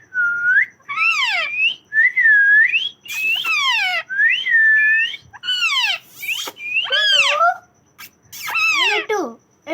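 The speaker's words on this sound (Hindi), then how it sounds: "सीटी बजा दो भाई, सीटी सीटी" A pet parrot whistles repeatedly at close range, loud rising and falling swoops and trills in a string of distinct bursts separated by short pauses.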